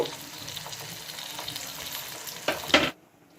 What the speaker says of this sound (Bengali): আর কটা মাছ এভাবে ভেজে নেব।